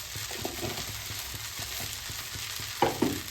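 Onions fry in a pan with a constant crackling sizzle, broken by soft scraping stirs and a couple of louder clacks near the end, with no talking.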